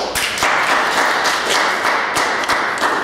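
A run of sharp, close claps and taps over a steady broadband hiss, irregularly spaced.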